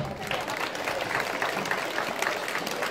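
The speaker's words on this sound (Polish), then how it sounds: "wszystkich proszę o duże brawa dla tych osób" Sustained applause from an audience fills the space, a dense wash of clapping with a few voices mixed in.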